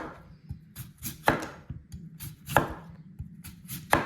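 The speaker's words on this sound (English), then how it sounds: "And I'm just cutting them into," A knife chops clean unpeeled potatoes into quarter-inch rounds on a board, a series of sharp close knocks at a steady, unhurried rhythm with no talk.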